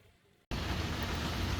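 Rain falling heard from inside a car, a steady broadband hiss that starts abruptly after a brief quiet moment and continues loud and even without pause.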